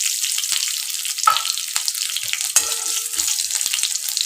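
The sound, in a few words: chopped garlic frying in a pan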